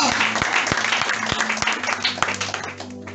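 A church congregation claps along in a steady rhythmic beat during a worship service, the loud, evenly spaced claps continuing throughout amid a general crowd murmur.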